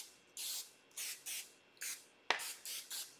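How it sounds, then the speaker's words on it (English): Grease sprayed from an aerosol can onto a cookie sheet for homemade pizza: seven short close hissing bursts in an uneven rhythm, with one sharp click partway through and no talk. "I have a cookie sheet, so I'm gonna spray it because it says a greased cookie sheet."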